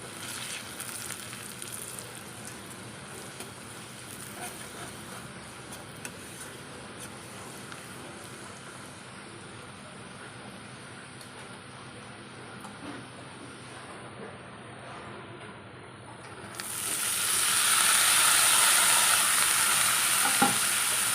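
Water spinach frying in hot oil in a pan with turmeric, a soft steady sizzle that bursts into a louder, brighter hiss near the end as it is stirred.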